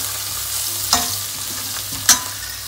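Chilies and ginger fry in hot oil in a pan, a steady close sizzle with two sharp spoon scrapes or clinks against the pan.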